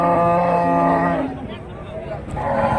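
A large pregnant cow lows loudly and close at a Karimangalam cattle market in Dharmapuri, a long harmonic moo that fades into background market noise, followed by a second, quieter low.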